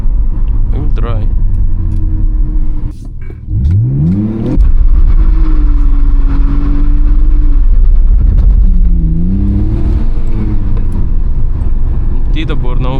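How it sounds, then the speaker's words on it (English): A BMW 320i E46 doing a burnout, its engine revving hard and rising in pitch with a loud throaty roar that swells, dips and surges again, heard from inside the car, with a brief voice early on. "Maybe it can do a burnout now. I will try."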